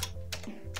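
Fingers tap out a few quick keystrokes on a Commodore 64 keyboard, close and crisp, with three sharp clicks spaced across under a second over a steady low electrical hum.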